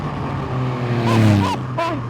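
Supercharged 340bhp Triumph Rocket 3 motorcycle on the road, its engine droning steadily close up with rising revving swells and a brief whine, a voice faintly underneath.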